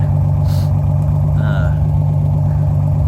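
A 1978 Chevy Nova engine runs after a cold start outdoors, a loud steady low idle rumble close by with brief higher noises over it.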